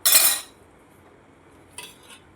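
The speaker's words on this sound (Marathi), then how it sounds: "सगळा बटाटा याच्यात मी टाकून बटाटा व्यवस्थित मिक्स करून 5 मिनटं शिजवून घेणार आहे." Potato tipped into a pot of boiling sabudana (sago) and stirred in, giving a loud, half-second metallic clatter of utensil against pot, then a quieter brief clink a moment later.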